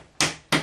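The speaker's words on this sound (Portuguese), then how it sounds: "apenas com uma simples martelada" Two sharp, loud hammer blows strike oven-roasted acorns to crack the shells, close up, each a hard knock with a brief ringing decay, about a third of a second apart.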